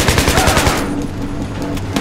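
Rapid automatic gunfire in the Battlefield 3 campaign, a loud close burst of shots for the first second that breaks off into rumbling battlefield ambience.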